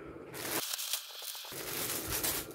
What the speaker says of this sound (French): Je vais faire un peu de bruit tout de suite, je vais toutes les sortir du gros sac